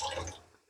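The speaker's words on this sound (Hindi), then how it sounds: "और साथ हमने इसमें डाल देना है इमली का रस" Seedless tamarind juice poured into a cooking pot of chana pulao, a brief close liquid splash and sizzle that starts strong and tapers off within a second, with no talking.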